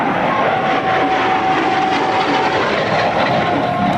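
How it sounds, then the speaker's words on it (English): An L-39 Albatros jet trainer passes at an air national guard open house airshow, a loud continuous roaring jet whine with a steady tone throughout. "A beautiful airplane."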